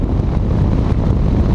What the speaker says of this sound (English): Getting some interesting wind noise on my helmet there